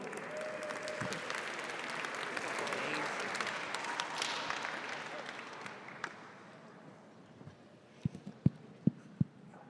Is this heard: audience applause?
yes